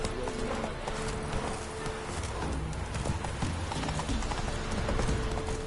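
Hooves of a horse trotting in The Witcher 3 clop in a steady, fairly close rhythm over a busy game soundscape, with a short whinny-like call and faint voices in the mix.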